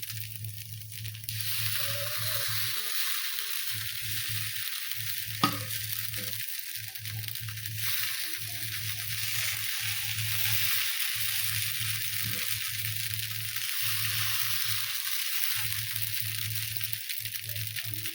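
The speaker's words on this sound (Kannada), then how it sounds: "ಈಗ ಇಟ್ಟು ಇದ್ರ ಮೇಲೆ ಮತ್ತೆ ಹಿಟ್ಟನ್ನು ಹಾಕೋದು ನೋಡಿ." Paddu batter made from a single dosa batter sizzles steadily in a hot oiled pan, a continuous close frying hiss with a brief scrape or clink partway through and no talk over it.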